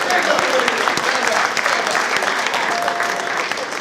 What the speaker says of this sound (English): there's a round of applause.